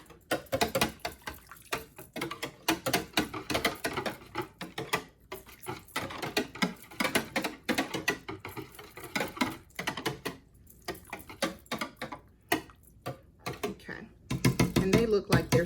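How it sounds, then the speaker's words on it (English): Whisk clattering rapidly against a container while stirring a light exfoliant into peach soap batter, a steady scraping, clicking rhythm that runs throughout, close and moderately loud. "And we're gonna whisk this in."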